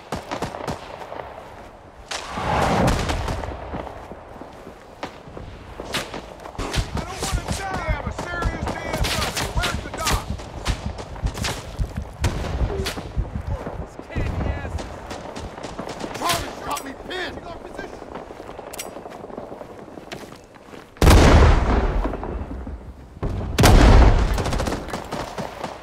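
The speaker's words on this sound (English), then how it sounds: "Enemy fire incoming!" Enemy gunfire and artillery rage during a video game fight for Firebase Georgina, dense bursts of automatic fire and heavy booming blasts, loud and continuous, with some voices shouting in the chaos.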